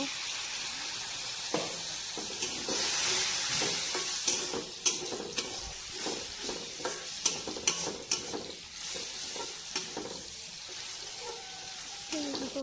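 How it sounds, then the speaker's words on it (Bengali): Water poured into fish curry spices frying in a pan, with a rising sizzle and steam hiss followed by repeated scraping stirring clatters, and a voice speaks in places underneath. "তো এটা এখন আমি পানি দিয়ে দেবো"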